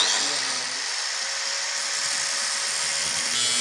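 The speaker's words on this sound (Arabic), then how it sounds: "هنجيب الصاروخ نقطع بيه دي" A steady, high-pitched angle grinder whine cutting through material while building a decorative shelf, running continuously and close at constant loudness with no talk.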